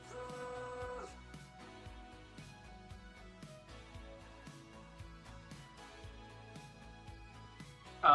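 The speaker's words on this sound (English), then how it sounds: "The printer is repeatedly screaming at me. It's saying T1 sensor abnormal." A 3D printer with a T1 sensor abnormal fault sounds a sustained electronic beeping tone, then quieter rhythmic mechanical ticking and tonal pulses, with a sharp loud burst at the very end.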